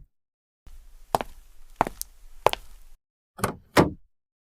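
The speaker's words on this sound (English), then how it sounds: "The door closed." A wooden door shuts with a series of sharp knocking thuds, several spaced impacts followed by two heavier bangs, close and clear against silence.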